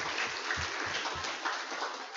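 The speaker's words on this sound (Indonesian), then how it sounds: "Kita berikan tepuk tangan nih untuk semangatnya Pak Nanang nih" An audience at a campus orientation session gives a round of applause for Pak Nanang: dense, steady clapping that fills the whole moment at even loudness, with no talk over it.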